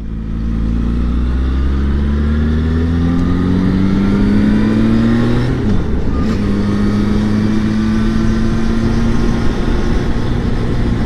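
Motorcycle being ridden, its engine droning loud and close throughout, with a steady pitch that shifts through gear changes and brief revs, no talking.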